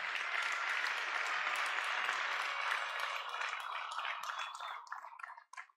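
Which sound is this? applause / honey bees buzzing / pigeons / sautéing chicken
applause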